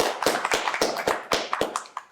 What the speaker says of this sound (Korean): 박수 주시죠.